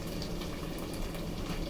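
Chopped onion goes into a hot pan of rendered sausage fat and sizzles as a dense, steady crackle heard close and alone.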